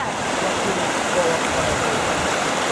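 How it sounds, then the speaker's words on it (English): Waterfall at Barramundi Gorge heard from the top, a steady broadband rush of falling water filling the whole clip without pause. "here you can see the waterfall from the top"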